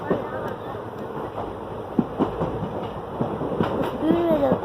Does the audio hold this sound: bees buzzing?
no